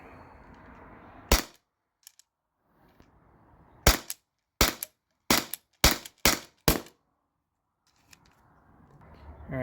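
A T4E HDP50 Gen2 pistol fires at a target about 24 feet away, a sharp crack followed by a rapid cluster of six close shots with silent gaps between, near and loud.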